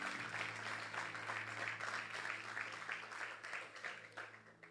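A church congregation claps together in a steady, sustained wave of applause that begins to thin and fall into separate claps near the end. No speech is heard.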